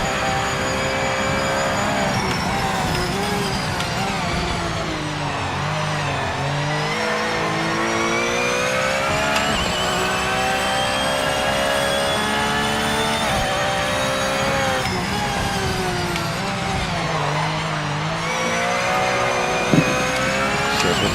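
A 1970s Porsche sports race car engine in a racing game roars continuously and loudly for the whole stretch, its pitch climbing and falling through gear changes and revs.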